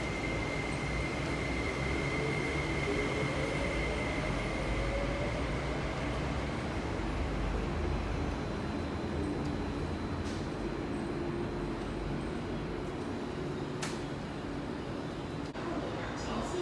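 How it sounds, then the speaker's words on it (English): Metro train pulling into Ma On Shan Station, heading toward Wu Kai Sha: a loud, steady rumble of wheels and motors with rising whine tones, holding for the full length, with faint voices mixed in. "The train to Wu Kai Sha is arriving."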